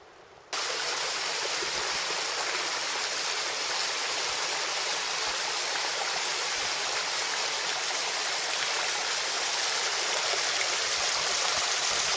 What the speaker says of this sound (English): this little tiny creek can get pretty powerful